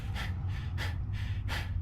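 A video game character in Cataclysm: Dark Days Ahead gasps for breath after inhaling smoke, with three or four rhythmic, breathy heaves over a low steady background hum.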